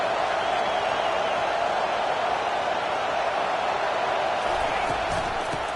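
A football stadium crowd during a college game, a dense, loud, sustained roar of cheering that holds steady throughout with no breaks.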